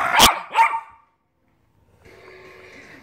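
Two sharp, loud dog barks in quick succession, followed by silence and then a faint, steady hum.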